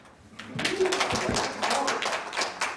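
Scattered clapping from a lecture audience at a university steel graduate school special talk, moderate and uneven, rising briefly and then tapering off.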